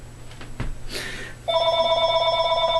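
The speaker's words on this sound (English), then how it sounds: "and my phone is ringing" After a couple of brief knocks, a phone starts ringing loudly nearby with a steady electronic warble that continues to the end.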